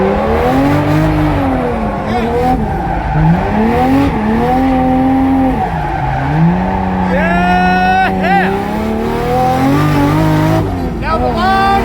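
A 2JZ-powered Nissan 240sx races around a track, its engine loud and close, rising and falling in pitch through shifts and corners, with tyres squealing briefly and voices talking over the din.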